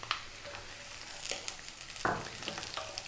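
Garlic and onion frying in oil, a soft continuous sizzle broken by occasional stirring scrapes and pops, quiet and close with no talking.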